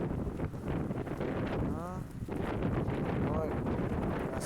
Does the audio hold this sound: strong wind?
yes